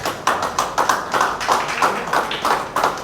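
A congregation at a Good Friday church service claps to welcome a woman, with rhythmic bursts of hand claps repeating roughly every half second, fairly close and moderately loud.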